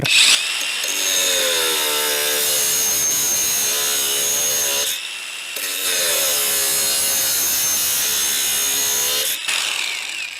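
Budget Leader angle grinder slicing through 20 mm square steel tube with 1 mm walls, a loud sustained high-pitched shriek in two long cuts separated by a short pause, close up with no talking.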